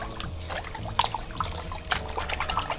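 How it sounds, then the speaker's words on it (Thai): Running water splashes and trickles over raw tilapia as the fish is rinsed and its guts and gills cleaned out, a steady close wash with sharper wet splashes and clatters from handling. "เราก็ล้างนะครับ พวก คลีปลาพวกลำไส้ปลาพวก คลีบต่างๆ ในตัวปลาออกให้หมดนะครับ"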